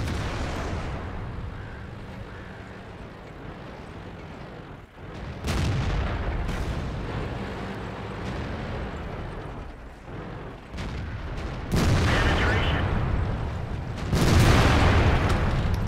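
Artillery shells boom and crash in the World of Tanks game during an IS-3 heavy tank match, with repeated loud blasts and mechanical rumble breaking over continuous engine and battle noise.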